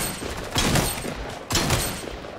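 Two bursts of gunfire from Fortnite, each a quick rattling volley roughly a second apart, fairly loud with a steady high tone behind them and no talk.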